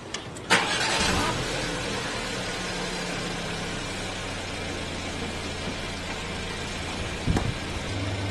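A car engine cranks and catches at the start, then settles into a steady low idle that runs on alone, close by, ready for a steering check with the wheels set straight ahead.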